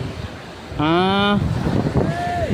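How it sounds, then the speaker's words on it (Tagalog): Strong wind rumbles and buffets the microphone throughout, with a clear voice speaking over it in the middle. "Malakas ang hangin no?"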